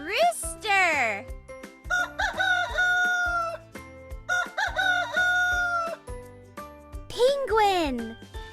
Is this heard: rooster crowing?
yes